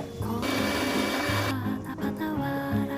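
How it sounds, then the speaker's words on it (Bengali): A kitchen mixer grinds dried chilli, ginger and garlic into a paste, its motor whining loudly and steadily, with the pitch shifting as the load changes and a brief dip partway through. "মিক্সিতে শুকনো লঙ্কা, আদা আর রসুন দিয়ে একটা মশলা করে নিয়েছি"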